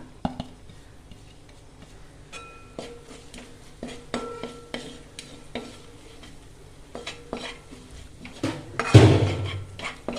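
Kanthari chili pickle being stirred in a pan for a Kerala-style homemade pickle, with repeated scraping and clinking of a utensil against the pan and one louder clatter near the end; no talking.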